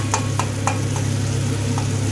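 Boiled tomatoes mashed with a metal spatula in a pan, a few sharp scraping taps spaced out over a steady low hum of the stove.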